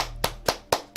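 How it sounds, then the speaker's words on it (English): Hands clap four times in quick, even succession, close and crisp, with no voices over them. "Let me clap it up."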